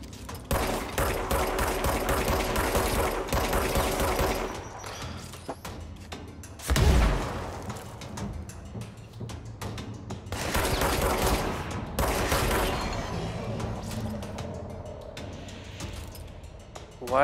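Rapid automatic gunfire in the video game Control, sustained loud bursts hammering a wall at close range with thuds and impacts between volleys, a voice talking faintly underneath.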